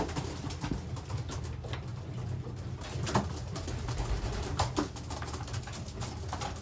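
Racing pigeons cooing inside a loft, soft repeated coos and rustling at low level, with occasional wing flutters and patter, no talking.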